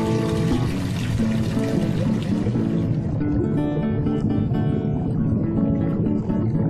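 Water flows steadily through a fleece-roll filter driven by a water wheel, a continuous full pouring and splashing rush with no pauses and no voices.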